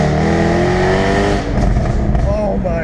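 Aston Martin engine revving loud and close, a steady rich rumble that rises in pitch toward the end, with a voice talking over it.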